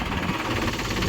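A tractor works a freshly watered, soggy field where it keeps getting stuck, its engine giving a continuous close drone with rough, knocking vibration.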